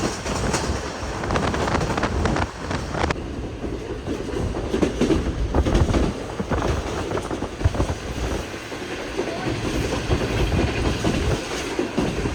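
A Green Line passenger train runs from Lahore toward Karachi, with loud, continuous rumbling and rhythmic wheel clatter on the rails, heard from close by inside the carriage.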